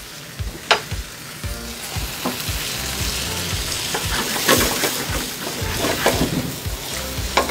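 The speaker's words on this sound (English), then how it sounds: "We're going to give our gnocchi a nice toss." Gnocchi tossed with peas and spinach in butter sizzle steadily in a hot pan, with a crackling hiss throughout and several sharp clatters and scrapes as the pan is shaken and stirred.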